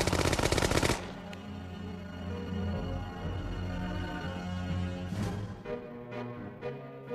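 Military machine gun fire, a fast rattling burst of rapid shots at the start, followed by a sustained droning background with a few more distant shots and crackles later, fairly loud with no speech.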